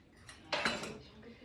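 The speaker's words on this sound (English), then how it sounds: "And I just take a regular tablespoon." A regular tablespoon scrapes and clinks through salmon patty mixture in a bowl, a faint tap followed by a louder scooping scrape lasting about a second, close by with no talk.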